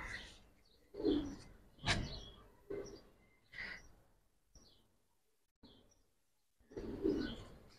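Giribaz pigeons give a series of short cooing calls, about eight brief throaty bursts spaced roughly a second apart, close and fairly quiet, with faint chirpy overtones and no talking.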